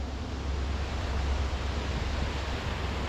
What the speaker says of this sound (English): The canal is over there, water flowing down here into the Schuylkill River.